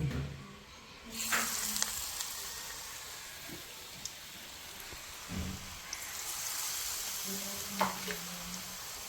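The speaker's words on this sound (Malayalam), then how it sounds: "ഇങ്ങനെ മുക്കി ഒന്നായിട്ട് തന്നെ വേണം കേട്ടോ മുക്കിയിട്ട് എണ്ണയിലോട്ടിടാം" Batter-dipped mushrooms for pakavada fry in hot oil, a soft steady sizzle with brief louder hisses as pieces drop in, heard faintly and close.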